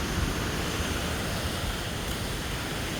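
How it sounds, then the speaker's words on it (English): A loud waterfall roars close by, a dense, steady rush of falling water with no letup and no voices. "the noise of the waterfall is intense"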